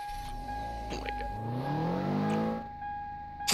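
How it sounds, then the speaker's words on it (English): A car pulling around with its engine revving, a rising then falling engine tone that swells in the middle and fades, over a steady high electronic hum. "let me pull my car around."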